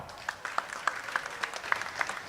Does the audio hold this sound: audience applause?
yes